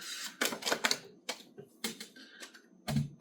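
Crisp bursts of tarot cards being shuffled, quick riffling clicks and flutters in irregular clusters with short pauses between, close and fairly quiet.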